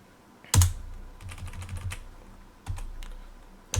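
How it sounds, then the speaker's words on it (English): Keys clacking on a Commodore 64 keyboard as commands are entered: a sharp initial keystroke, a cluster of quicker taps, then a few separate presses, close and fairly quiet, with no talking. "I'll type new, load, random, and run it."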